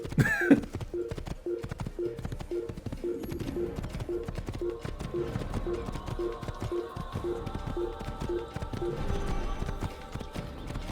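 Horse hooves clip-clop steadily in the Assassin's Creed video game, a continuous close rhythmic trot of hoofbeats running throughout over a background of game ambience.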